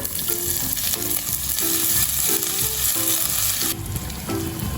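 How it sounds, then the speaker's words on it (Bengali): Grated ginger fries in hot oil spiced with five-spice seeds, giving a loud, continuous crackling sizzle, and a spoon stirs through it at a regular rhythm. "আদাটা ভেজে নিয়েছি"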